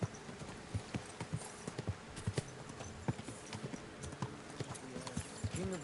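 Horse hooves clip-clop in a steady, uneven walking rhythm on the ground in Kingdom Come Deliverance 2, close and moderately loud, with faint ambient game sound beneath.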